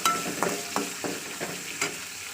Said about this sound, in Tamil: அதையும் போட்டுக்கிட்டு நல்லா வதக்கிக்குங்க